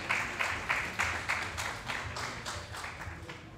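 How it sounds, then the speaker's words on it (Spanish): Audience clapping for Agustín Rivera, a journalist, at a talk on Hiroshima survivors' testimonies; a moderate, steady burst of applause with periodic swells, heard alone without talk. "pido un aplauso para Agustín Rivera"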